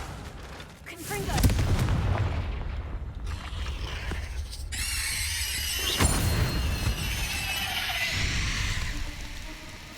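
A Confringo blast spell cast in the Hogwarts Legacy video game erupts in booming, crackling bursts with a squealing magical edge, loud and repeated amid ongoing game sounds and some speech.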